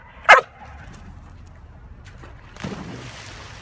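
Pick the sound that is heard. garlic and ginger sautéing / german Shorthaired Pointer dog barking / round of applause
german Shorthaired Pointer dog barking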